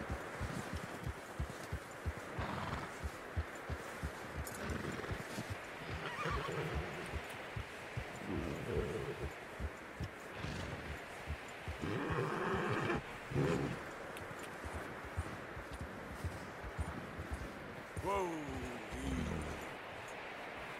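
A horse in Red Dead Redemption 2 neighs and whinnies repeatedly over steady clip-clopping hooves and rustling ground noise, sustained and fairly close throughout with no voices.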